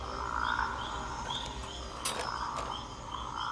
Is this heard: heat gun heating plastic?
no